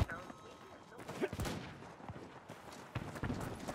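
Desert Eagle pistol shots ring out in the Battlefield 2042 shooter, sharp single cracks at moments amid ongoing distant battle noise and gunfire, with a player talking over the action.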